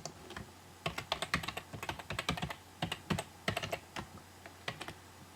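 Quick bursts of keystrokes on a computer keyboard as a password is entered, clustered clicks with short pauses between groups, close and fairly quiet with no talking.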